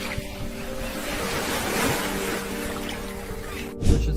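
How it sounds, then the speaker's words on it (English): Steady rushing water noise, like waves or a strong flow, fills the clip with a constant wash, ending in a brief louder thump. "luring the animal near a large bowl using sounds of water"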